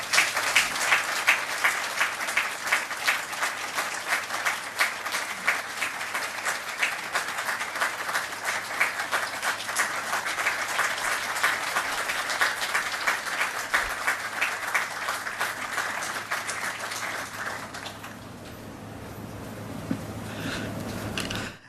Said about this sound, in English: Please join me in a round of applause for Dr. Daniel